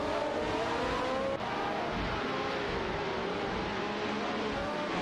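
Brabham BT44B and Ferrari 312T race cars in a racing video game roar with a steady, high-pitched engine drone that stays loud and continuous throughout, their pitch lines wavering slightly as they run close together.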